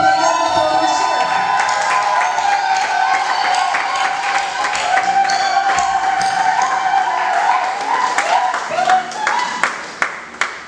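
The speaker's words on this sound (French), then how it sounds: "Est-ce qu'on peut pousser des cris de joie" A church congregation at a French-language Methodist service shouts for joy, with sustained mixed cheering, whoops and clapping that fill the space loudly, then taper into scattered claps near the end.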